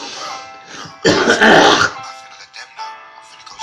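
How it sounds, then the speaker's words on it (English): A harsh, loud, phlegmy throat-clearing cough up close, framed by short muffled vocal noises before and after. "Got fucking cough."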